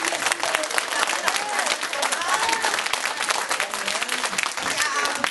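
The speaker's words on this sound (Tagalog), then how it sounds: "Ganyan ba naman ang palakpak?" A church congregation breaks into thick, sustained applause, many hands clapping close and loud without pause, with scattered voices and cheers mixed into the din.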